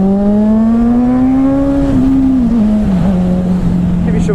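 A Suzuki Bandit motorcycle engine revs up in a single steady rising pull, then eases back down, loud and close with no talk over it.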